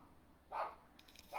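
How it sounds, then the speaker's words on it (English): Dog barking at a stranger outside, two faint, muffled barks heard at a distance, spaced about a second apart over low background hiss. "the dog is barking at a stranger."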